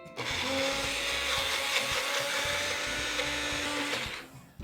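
A blender or mixer whirs steadily for about four seconds as a chunky peanut butter mixture for a peanut butter and jam roll-up is mixed, loud and continuous with no talking, then cuts off at the end.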